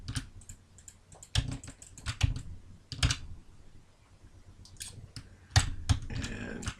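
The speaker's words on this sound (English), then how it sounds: "Hold the Control key on your keyboard and double click." A computer keyboard and mouse at a desk give off bursts of close key taps and clicks, irregular clusters separated by short quiet gaps, with no talking.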